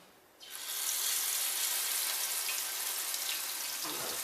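Pancake batter dropped into hot grease bursts into a loud, steady hissing sizzle close by, rising abruptly after a brief quiet moment and holding bright and even, with faint talk underneath.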